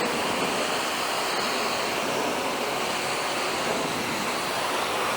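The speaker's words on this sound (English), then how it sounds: "I'm going to try and rinse this and hold the camera at the same time" Water sprays steadily onto a dirty Land Rover Defender during a rinse, making a continuous close hiss that stays at an even level throughout.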